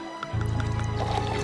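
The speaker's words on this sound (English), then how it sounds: "difficulty pouring a beer." Beer pours into a glass in a short, close gurgling fill that starts after a brief pause and keeps flowing steadily to the end.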